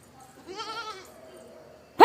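A young goat gives one wavering, quavering bleat lasting about half a second at moderate distance, followed by quiet and then an abrupt loud burst of noise at the very end.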